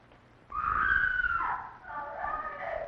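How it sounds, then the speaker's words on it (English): A woman screams in a 1931 film scene, a loud high shriek that starts abruptly, then falls into a wavering, moaning cry. "Why is she screaming like that?"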